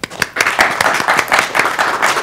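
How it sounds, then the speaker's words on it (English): A small audience at a formal evening event in London claps to welcome guests of honour, close and loud with distinct individual claps in an uneven rhythm. "Please welcome with thunderous clapping Mrs. and Janab Shah"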